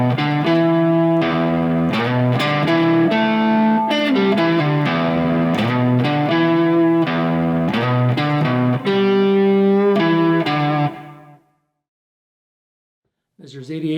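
Electric guitar phrase from a song, played slowly with a distorted, effects-laden tone; a steady run of picked notes close and loud, then a sudden stop into silence.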